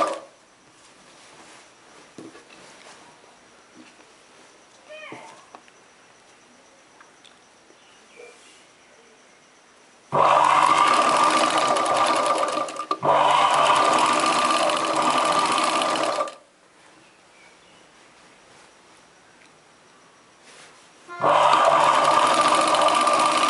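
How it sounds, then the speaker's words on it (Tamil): A sewing machine stitches a chudidar top in three loud, steady runs, the first two nearly back to back and a third after a pause, with quiet handling noises between and no talking. "கரெக்டாக அந்த 1 இன்ச்சை வந்து எடுத்துகிட்டு நீங்கள் கரெக்டாக ஒரு தையல் போட்டுக்கோங்க"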